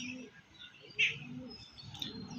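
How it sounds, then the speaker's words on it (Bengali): Pigeons and their chicks kept for sale coo softly in a quiet room, with low, faint murmuring and one brief, sharper chirp partway through. "এই একটা পায়রা আছে এই যে বাচ্চাটা আছে"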